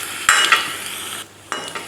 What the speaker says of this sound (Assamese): আকৌ এইখিনি দি ল'লোঁ, ৰঙচুৱা হোৱালৈকে ভাজিছোঁ।